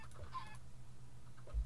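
Chicken in the Minecraft video game clucking briefly, a short game sound over a low steady background hum.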